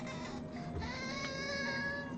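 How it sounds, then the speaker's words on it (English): Cat meowing in an insistent, upset-sounding way, a drawn-out tonal cry running through the whole moment at moderate, close level over a faint background hum, with no talking. "She always sounds like she's really, really upset. But that's just like how she meows."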